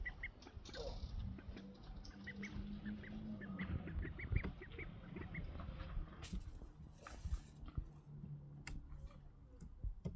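Ducklings splash and call at a swimming pool, with soft honking and quacking bursts scattered through steady water and background noise, fairly close and moderate in level.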